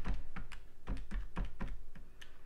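Rapid, uneven taps of fingers keying numbers into a calculator, a series of close, distinct clicks in quick bursts with no voice over them.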